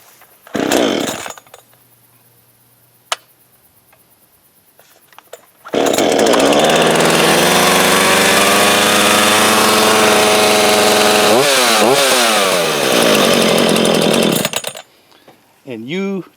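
A Holzfforma G372XT chainsaw with choke and spring-assist start is pulled over, fires and runs loud and steady at high revs for about nine seconds, with a brief throttle dip near the end before cutting off to quiet.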